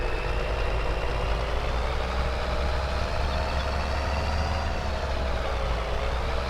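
Cotton harvester in Farming Simulator 22, a steady heavy diesel drone with a deep low rumble and a slowly shifting whine above it, continuous and loud throughout with no talk.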